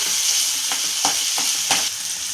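Ginger, garlic and green chili paste sautéing in a pan for a tuber vegetable dish, with a steady close sizzle broken by a few soft stirring scrapes.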